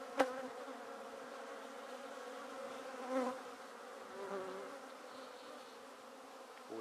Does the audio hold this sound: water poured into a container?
no